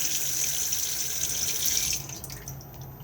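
Water running from the basin tap in a Swift Conqueror 480 caravan, a loud steady hissing stream that cuts off near the end, leaving faint drips and room sound.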